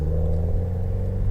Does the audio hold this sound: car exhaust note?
yes